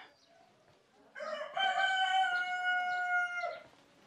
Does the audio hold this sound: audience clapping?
no